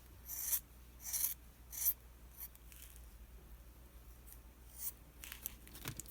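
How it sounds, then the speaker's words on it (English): Scissors trim latch hook yarn in three short, close snipping bursts, followed by quieter rustling and a couple more light cuts, with no talk. "you could trim it like this, like maybe kind of part it and trim it right down the middle"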